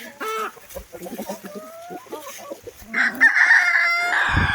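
Chickens cluck and a rooster crows loudly nearby in a backyard flock that includes a breed resembling Hoplaymut, with several birds calling in overlapping bursts and a long crow in the final seconds.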